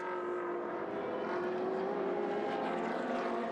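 Ferrari 458 race cars with 4.4-litre mid-mounted V8s running hard at the Paul Ricard circuit in a 2015 Trofeo Pirelli race, a steady loud engine drone with a rising pitch throughout and no voices.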